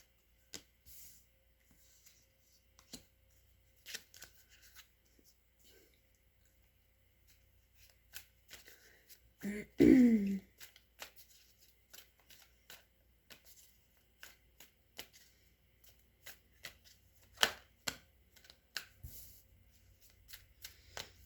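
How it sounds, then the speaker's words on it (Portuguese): Tarot cards shuffled by hand for a reading: soft riffles and scattered light slaps of cards, close and quiet, with a louder flurry midway. No talk is heard. "Vamos ver o que dizem as cartas para Sara e Jean no mês de outubro."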